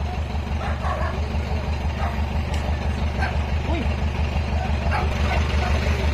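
A dog that has just been struck by a vehicle yelps and whimpers under a steady engine hum from a broken-down vehicle nearby, the cries faint and intermittent across the whole stretch.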